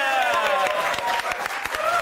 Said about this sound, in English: You see, they applauded for you.